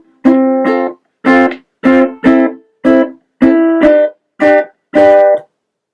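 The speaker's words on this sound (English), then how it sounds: "So then you can try and go into this strumming pattern" Fast ukulele strumming pattern with muted strums, eight quick bursts of chords separated by short clipped silences, played close and loud with no talking.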